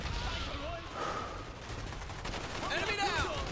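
Dense gunfire from the Call of Duty Black Ops campaign on Xbox One, steady overlapping shots and bursts throughout, with shouted voices and radio-style chatter mixed in.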